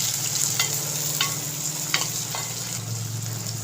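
Tomatoes sauté in hot oil in a pan for sundakkai vathal kuzhambu, a continuous even sizzle with a few soft scraping stirs of a spoon, close and moderately loud without talk.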